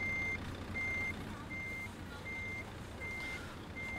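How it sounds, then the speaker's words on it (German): A truck reversing in the Trucks & Trailers video game, its reversing alarm beeping in a steady, evenly spaced rhythm over a low engine rumble. "Erstmal einfach rückwärts fahren."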